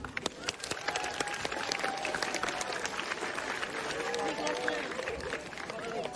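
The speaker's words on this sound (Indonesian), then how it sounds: "Kita bisa beri aplaus untuk 12 IPA 4" Applause for class 12 IPA 4 at a school morning flag ceremony: dense, steady clapping from a large crowd of students, sustained and fairly loud throughout, with a voice talking over it.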